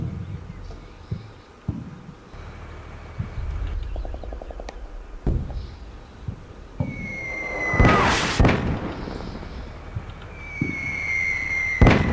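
Artillery fire for effect in a combat video game, a series of distant thuds and sharp blasts at irregular intervals, with a loud crack and whistling sounds in the later part.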